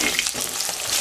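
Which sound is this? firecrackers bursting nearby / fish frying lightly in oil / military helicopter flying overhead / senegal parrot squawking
fish frying lightly in oil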